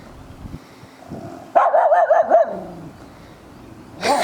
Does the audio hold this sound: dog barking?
yes